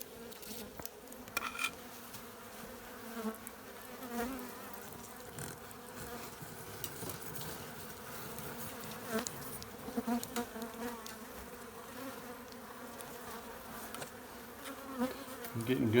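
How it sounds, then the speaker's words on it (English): Bees humming from a large hive hidden behind a house chimney and foam board, a continuous droning buzz with occasional louder passes close by and faint handling noises. "we're looking at bees in the back of that foam board there"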